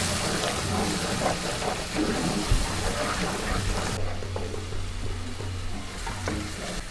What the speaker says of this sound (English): stirring the green seasoning in oil like this really helps those flavors to